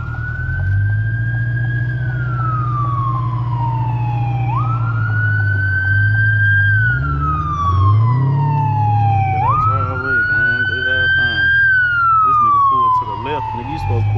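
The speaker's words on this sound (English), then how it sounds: "Damn, I'm right in front of the fucking ambulance" Ambulance siren on a late-night drive, very close and loud. It sweeps slowly up and down in a wail over the low engine and road rumble, and voices are heard briefly.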